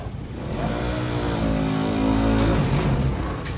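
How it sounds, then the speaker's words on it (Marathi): An auto rickshaw engine labors up a steep climb, a loud, close, droning motor whose pitch rises and holds as it strains, then eases off near the end. "दम तोडले रिक्षा, दम तोडले"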